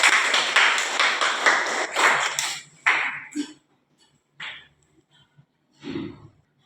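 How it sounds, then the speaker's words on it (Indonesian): Applause from a classroom of students, dense clapping for about three seconds and then thinning to a few scattered claps and small noises before quiet. "Tepuk tangan untuk kita semua."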